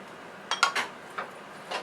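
Meat and vegetables stirred in a pan for pancit bihon, giving a few quick clinks and scrapes of a utensil against the pan, spaced out and fairly quiet with no voices.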